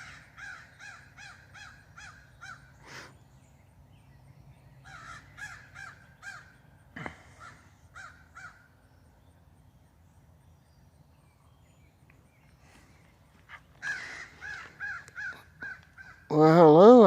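Crows caw repeatedly near backyard bird feeders in short harsh bursts, some close and loud, others farther off, with someone talking quietly at times and a sudden loud rustle at the end.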